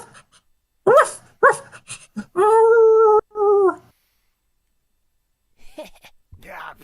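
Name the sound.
dog barking in video game Monster Prom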